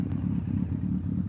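A 2003 Suzuki GSX1400 K3 motorcycle engine idles close by with no baffles in the exhaust, a deep, steady, pulsing low rumble with no voices.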